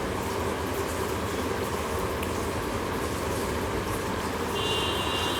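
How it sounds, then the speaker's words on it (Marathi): A mixer grinder whirs loudly and continuously at close range, grinding a roasted spice paste, a dense, steady grinding roar with no pauses. "आता आपण भाजलेलं वाटप थंड झालं आहे ते मिक्सरला लावून घेऊ"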